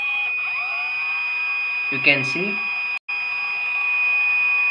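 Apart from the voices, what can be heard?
electronic buzzer alarm sounding on system fault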